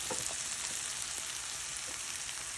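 Worcestershire sauce hits steak in a hot pan, giving a steady, close sizzle and crackle that runs unbroken with no talking.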